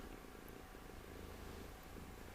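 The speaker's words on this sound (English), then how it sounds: "So maybe you hear her now. Purring." A cat purrs very close and soft, a continuous low rumbling murmur with no pauses, heard alone in a quiet indoor space.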